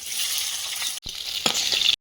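Black cumin seeds and slit green chillies sizzle and crackle loudly in hot oil in a pan, a dense hiss broken by a brief pause and a stir before cutting off.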